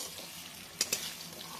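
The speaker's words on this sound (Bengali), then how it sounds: "দেখো এখন এই আলুটা ভেজে নেবো" Potato frying in oil in a wok gives a soft, steady sizzle, broken by two quick clinks or stirs close together.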